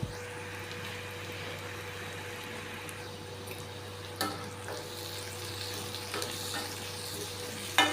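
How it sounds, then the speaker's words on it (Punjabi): Spices are stirred into a frying pan while making bitter gourd curry, a soft steady sizzle running throughout with occasional scrapes and clinks of the spoon against the pan. "ਸਾਰੇ ਮਸਾਲਿਆਂ ਨੂੰ ਚੰਗੀ ਤਰ੍ਹਾਂ ਮਿਕਸ ਕਰ ਦਿਓ"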